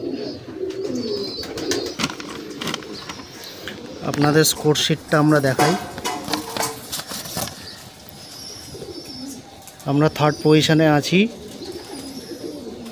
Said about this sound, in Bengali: এই উড়েছে আমাদের পায়রা।